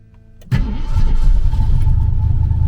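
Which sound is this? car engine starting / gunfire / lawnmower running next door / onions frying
car engine starting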